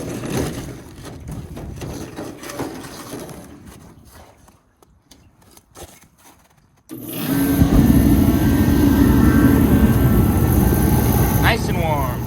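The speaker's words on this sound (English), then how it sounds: "It's about 20 degrees outside, so I'm gonna fire up the heater." A portable heater fires up on a cold day: soft rustling and handling come first, then after a brief quiet a loud, steady roaring hum starts and keeps running to the end.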